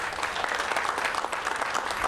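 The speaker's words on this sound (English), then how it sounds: "Let's give our mayor another round of applause." A crowd at a recreation center ribbon-cutting ceremony gives the mayor a round of applause, a brief, dense wash of clapping at steady volume with no talk.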